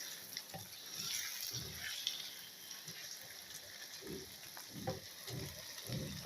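Tomatoes frying in a pan with a soft, continuous sizzle, faint and close, broken by low irregular scrapes and taps as a spoon stirs and presses them.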